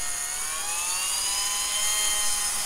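A 3D-printed three-phase electric jet motor spins at speed, blowing air with a loud, steady high-pitched whine and slowly rising tones, close and alone.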